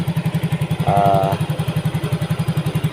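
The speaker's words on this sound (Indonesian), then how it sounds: "motornya stasionernya tidak matian" A Yamaha Mio GT motorcycle engine, just fitted with a new fuel injector, idles close by with an even, steady pulsing putter, loud and alone.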